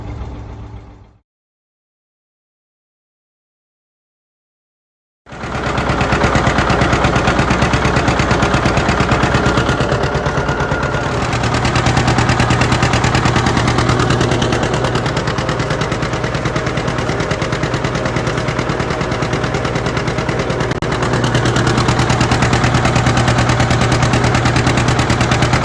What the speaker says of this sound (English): So there we have it, 1955 John Deere 70 diesel.